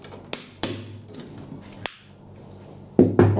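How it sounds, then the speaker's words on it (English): A staple gun fires staples into canvas stretched over a wooden frame: five sharp, loud clacks spaced irregularly, two close together near the end, with quiet room tone between them and no talking. "take your staple gun and put it on the edge and press it from top"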